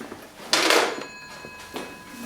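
Telephone ringing with no one answering, heard as two bursts of ringing, one longer and one shorter, at moderate loudness against a quiet background.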